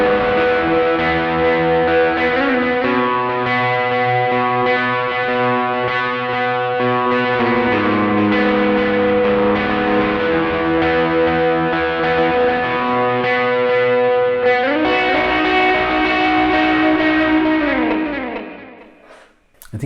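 An overdriven electric guitar strums sustained chords in a 1990s-style tone, dotted-eighth delay repeats trailing behind each one, loud and continuous, then fading out at the end.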